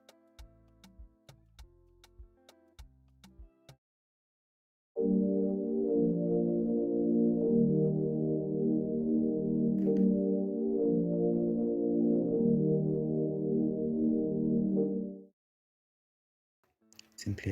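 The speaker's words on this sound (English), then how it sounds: "a Noia pad from Contact in the factory selection library." A Noia synth pad from Kontakt's factory library sustains warm chords an octave up for about ten seconds, steady and smooth, after a few short plucked notes at the start.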